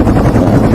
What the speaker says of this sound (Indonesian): Pak supir, siapkan helikopter.